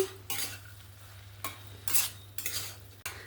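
A spoon stirs ash gourd and moong dal curry in a pan, making several separate scraping swishes in bursts over a steady low hum with a faint sizzle, close up and with no voices.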